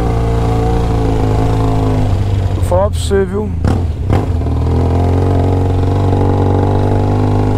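A motorcycle engine drones steadily during a ride on a rainy Sunday, with shifting harmonic pitch and a brief rev in the middle, while someone talks over it.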